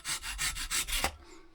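A hand saw with a fine 18-teeth-per-inch blade cuts through a plastic locker, making close, steady rasping back-and-forth strokes, about five in quick rhythm, before they trail off.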